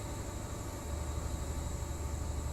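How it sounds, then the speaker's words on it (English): Diesel power car engine from the Train Simulator 2018 game, heard as a steady, loud, droning rumble with a continuous low hum and faint high whine, holding even throughout without voices. "Making loud diesel-y noises."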